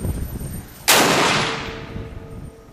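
A single sharp SCAR rifle shot fired at a target, close and loud, with a long echoing tail that fades over about two seconds after a quiet start.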